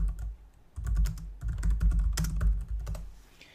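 Keys on a computer keyboard are tapped in quick irregular bursts, close and fairly loud, with a brief pause midway and no speech.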